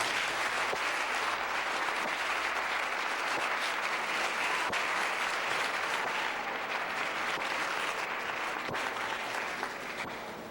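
An audience at an academy of letters ceremony in Imperatriz claps steadily and densely throughout, a continuous wash of applause that eases slightly toward the end.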